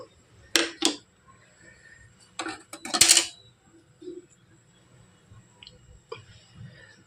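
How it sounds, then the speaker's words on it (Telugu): A gas stove is lit in a home kitchen, with several sharp igniter clicks in short bursts, some close together, followed by quieter handling noises. "నేనైతే ఇప్పుడు స్టవ్ వెలిగించుకుంటున్నాను"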